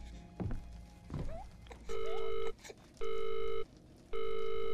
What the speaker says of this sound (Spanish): Teléfono, voy.